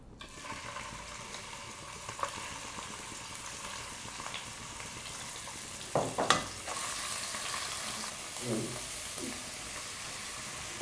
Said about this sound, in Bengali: আমি চিংড়ি মাছ দিয়ে যে মূলো ছেঁচকিটা করব তার জন্য আমি কড়াই তেল দিয়ে দিলাম